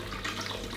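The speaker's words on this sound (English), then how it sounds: "now we're going to add 4 cups of water" Water pours steadily from a tap into a jar, a short, fairly quiet splashing rush with no voices.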